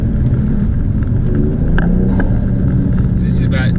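BMW G42 M240i fitted with an MST intake revs between about 2,000 and 4,000 RPM on a motorway, a low engine rumble running under road and cabin noise, with a few faint clicks.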